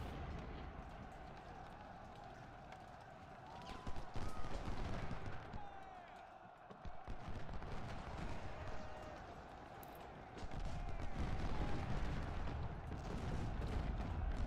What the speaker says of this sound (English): they just fired that volley of canister at our skirmisher unit